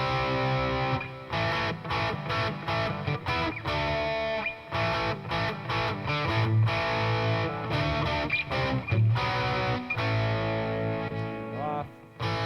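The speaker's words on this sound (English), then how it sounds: "Let's bring that distortion to about 12 o'clock." A Gibson Les Paul Studio played through a Boss Katana MK2 100-watt 1x12 amp with distortion set around halfway, giving loud, continuous, heavily driven chords and riffs with brief choppy gaps.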